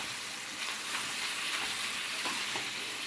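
Pappadam frying in hot oil gives a steady, dense sizzling hiss with faint bubbling crackles, continuous and close throughout.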